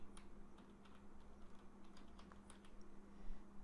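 Soft, quick keystrokes on a computer keyboard while writing HTML code patter in an irregular run over low background hum, quiet and close.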